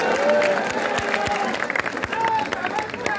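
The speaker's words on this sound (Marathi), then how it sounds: "आज हा जो काही जल्लोष आहे" Political rally crowd in Maharashtra cheering and clapping, a loud continuous roar of many voices with scattered claps and whistles throughout.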